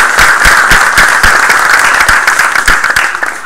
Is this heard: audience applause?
yes